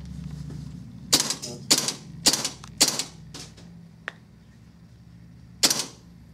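An airsoft AK74U rifle fires on semi-automatic: about six sharp, loud pops spaced irregularly, with a brief faint click between them and a quiet background.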